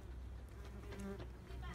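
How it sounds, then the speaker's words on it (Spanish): Many bees buzzing around pinyon pine trees outdoors, a steady close swarm drone continuing throughout with no speech. "Pero miren cómo hay abejas."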